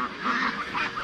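A flock of farm ducks quacking in a dense, overlapping chorus of nasal calls, close and loud, over about a second.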